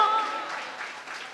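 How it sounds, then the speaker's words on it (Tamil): Church congregation clapping and applauding together during a Tamil prophetic sermon, a steady wash of claps at moderate level filling the short moment without a break. "கைதட்டுங்க எல்லாம்."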